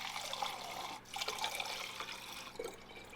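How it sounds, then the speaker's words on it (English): Fermented kombucha tea is poured through a strainer into bottles, a steady close trickle of liquid with slight gurgling and a brief pause partway, alone without talking. "And now it's time to add the fermented tea. I like to use a strainer to catch any snotty looking pieces."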